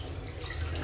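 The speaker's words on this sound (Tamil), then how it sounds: "இப்போ மட்டன் வேகிறதுக்கு தேவையான அளவு தண்ணி சேர்த்து" Water is poured onto mutton in a pressure cooker while making mutton biryani, a short, steady splashing rush like a running tap, under a second long.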